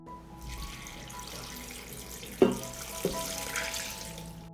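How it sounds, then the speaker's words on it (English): Water is poured into a soup pot in a kitchen while making a vegetable soup. It makes a steady, moderately close splashing, with a couple of sharp clinks from the pot partway through. "I add a liter of water"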